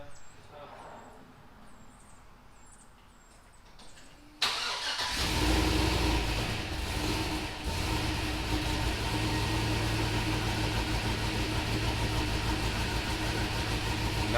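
A car engine fitted with a Maxpeedingrods turbo cranks and fires up after a few quiet seconds, then settles into a loud, steady idle that rumbles on to the end.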